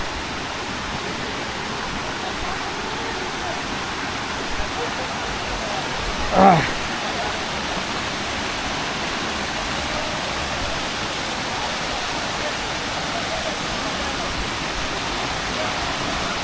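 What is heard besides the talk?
waterfall in Sajek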